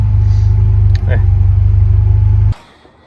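Car idling and driving on a short test drive around the block, a steady loud low engine rumble with a brief rev near the start, cutting off abruptly near the end.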